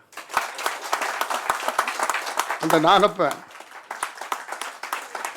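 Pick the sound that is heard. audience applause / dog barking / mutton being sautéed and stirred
audience applause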